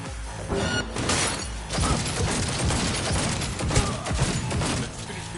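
A sustained volley of gunfire in Cyberpunk 2077, a loud and continuous clatter of shots and impacts mixed with crashing, filling the whole stretch with no talking.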